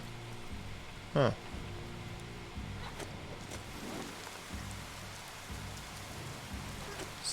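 Steady rain falls in the video game Biomutant, a soft continuous hiss with faint distant rumble beneath, broken by one brief sharp blip.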